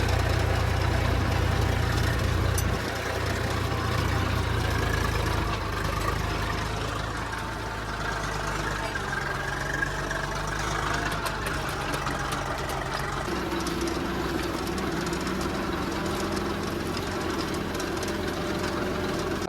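A tractor engine chugging steadily while pulling a cultivator through a farm field, a low rumbling drone that is loud and constant, with the pitch dropping partway through as the load changes.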